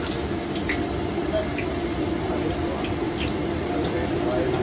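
Water runs steadily from a tap in a continuous hiss, with faint voices and small clinks in the background.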